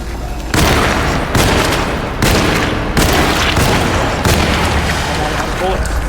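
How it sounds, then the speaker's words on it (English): Repeated heavy shotgun blasts in the Alone in the Dark game, five or six loud booming shots spaced about a second apart over a dense noisy background. "Literally just missed a round of shotgun"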